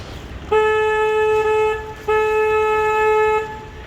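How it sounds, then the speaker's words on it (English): Two loud, steady blasts of a boat horn, each about one and a half seconds long, separated by a brief pause, with a low background rumble. "I want to honk the horn on the boat twice"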